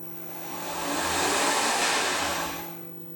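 Tormach RapidTurn lathe spindle spinning at 2000 RPM, a steady broadband whirring hum with a faint high whine that swells to a peak and then eases slightly, running alone with no talk.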